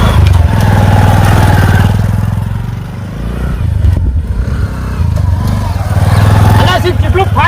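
A motorcycle engine runs steadily and loudly close by throughout, its low drone dipping briefly midway and then rising again, with people talking over it.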